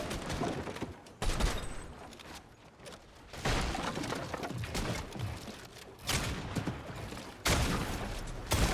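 Hunting rifle gunshots in a shooter video game boom out in a few heavy bursts spaced a couple of seconds apart, loud and close amid dense game noise.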